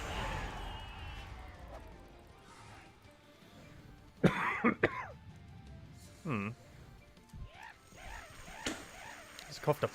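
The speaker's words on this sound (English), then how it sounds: "Just coughed up phlegm." A person coughs up phlegm, with several harsh, wet coughs and throat clearing in a quick cluster mid-way, alongside other faint indoor noises.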